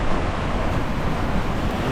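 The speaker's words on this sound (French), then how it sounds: "J'entends le vent monte jusqu'à 25 nœuds, le vent apparent en plus." Strong wind gusting to about 25 knots over a rough sea aboard a solo sailboat running downwind on an Atlantic crossing, a loud constant rush of wind and water.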